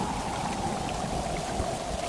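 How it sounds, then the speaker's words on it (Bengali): A heavy evening rainstorm in a cartoon pours down as a dense, even hiss of rain, with no voices over it. "সেদিন সন্ধ্যা থেকে শুরু হলো খুব ঝড় বৃষ্টি।"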